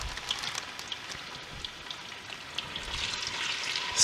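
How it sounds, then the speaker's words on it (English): Pork sears in melted lard in a pan for carnitas, giving a steady, fairly loud sizzle and crackle with scattered pops that swell toward the end; nobody speaks. "Now I'm going to add the pork and cook it up for a little bit"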